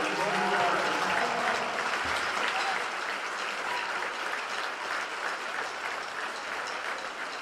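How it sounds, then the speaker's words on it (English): A crowd at a high school basketball double header between Moorhead and DGF applauds the winners with steady, dense clapping that fills the gym and stays loud before easing slightly toward the end. "let's give a nice round of applause to the winners"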